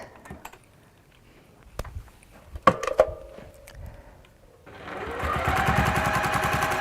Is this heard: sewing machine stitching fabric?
yes